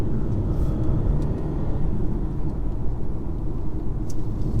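A 2022 BMW 118i on the move gives a continuous low engine and road rumble, fairly loud and even throughout, with no talking.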